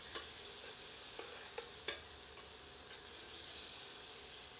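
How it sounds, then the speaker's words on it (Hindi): A ladle scrapes and stirs chicken curry in a pot over low heat, a few distinct metallic scrapes and clinks over a soft steady sizzle, no voices. "एक बार कड़छी चलाते हैं।"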